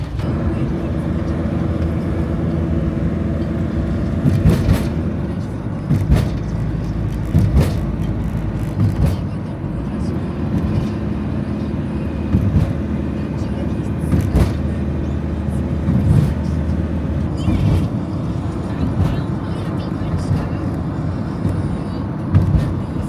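A camper van rolls along back roads on a route toward Krk island in Croatia, its engine and tyre rumble steady and close inside the cabin, with occasional bumps and rattles.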